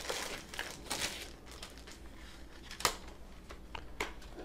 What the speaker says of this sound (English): let's go ahead and crack open the keyboard here